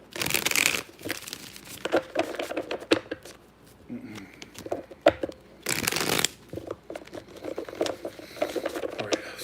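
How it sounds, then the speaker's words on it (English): Tarot cards are shuffled close up in bursts, crisp riffling and patting of the deck with short pauses between rounds, loud and dry. "2 more shuffles."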